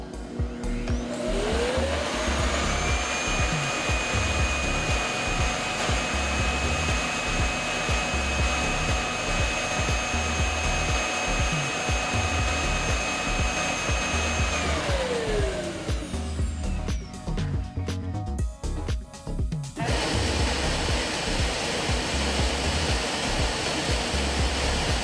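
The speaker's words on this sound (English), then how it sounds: "Emptying dust bin." A robot vacuum base station emptying the dust bin: a loud, steady whooshing suction with a rising whine that holds for about fifteen seconds, then winds down and gives way to a softer continuing airflow.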